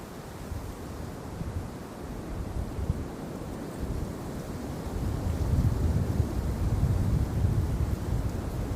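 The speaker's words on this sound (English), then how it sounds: "Windy." Strong wind blows outdoors, rumbling steadily against the microphone with low buffeting gusts that grow louder toward the end, with no voices.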